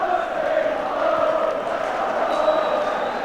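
A noisy football crowd at Tannadice for a 1997 Dundee United versus Rangers Scottish Premier Division match roars and sings steadily, a continuous dense wall of stadium noise with no clear break.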